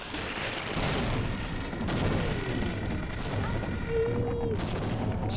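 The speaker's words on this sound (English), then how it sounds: "Just throw like 30 grenades" Grenade explosions in the game Half-Life, several heavy booms and bursts scattered across a dense, noisy background of gunfire and rumble, with a short whistling tone near the end.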